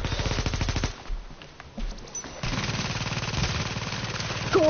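Automatic gunfire from the shooter game Tom Clancy's The Division: a rapid burst opens, drops out briefly, then resumes as loud, sustained rattling fire to the end.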